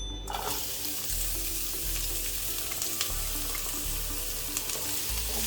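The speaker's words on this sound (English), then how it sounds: "I'll fry the onions first, so I'm using white and red onions." White and red onions fry in a pan with a loud, dense, continuous sizzle and an occasional stir, no talking.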